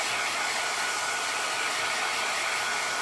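A hair dryer blows steadily on white acrylic paint on a canvas, a loud, even, continuous whoosh held close with no talking.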